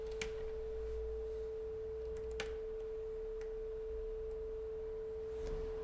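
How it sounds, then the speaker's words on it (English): A steady, pure-sounding filtered square wave synth tone holds throughout, unchanging in pitch and level, with faint clicks and background noise around it. "we've gone from a square wave, which had lots of frequencies, to a filtered square wave"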